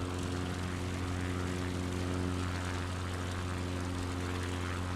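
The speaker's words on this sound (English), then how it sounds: "Okay, we're taking off." A propeller airplane taking off in Microsoft Flight Simulator, its engine giving a steady, loud droning hum with a constant tone throughout and no talking.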